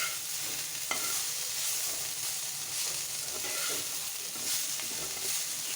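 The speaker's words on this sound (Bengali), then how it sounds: "দেখো এটা উস্তে, আলু, রসুন, পেঁয়াজ, কাঁচামরিচ দিয়ে ভাজি হচ্ছে" Bitter gourd, potato, garlic, onion and green chili dry-frying on a gas stove, a dense, even hiss of sizzling oil with faint stirring underneath, steady throughout.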